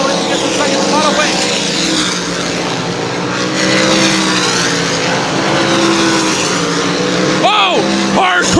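Sprint cars race at New Smyrna Speedway, their engines a loud continuous roar with whining pitch sweeps as cars pass, under an announcer's excited commentary.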